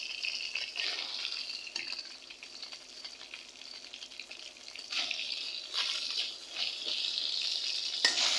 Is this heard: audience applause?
no